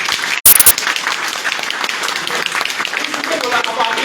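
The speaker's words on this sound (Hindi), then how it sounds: "आप मेरे तालियां बजाएं।" A training seminar audience gives a dense, sustained round of applause after a brief sharp pop, the clapping steady and close throughout.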